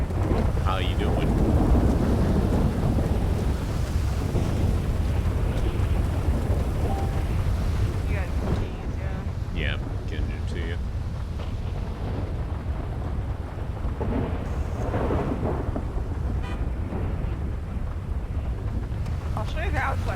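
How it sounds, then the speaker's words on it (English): Heavy rain and rumbling thunder roll continuously through a video game roleplay scene, loud and dense, with people talking over the storm. "I'll show you the outside after it stops raining"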